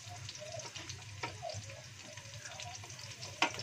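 Shallots and garlic frying in a pan as part of a spicy stir-fried clam meat dish, giving a soft, continuous sizzle with light stirring clatter and scraping sounds.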